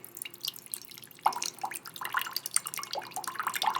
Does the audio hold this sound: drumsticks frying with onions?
no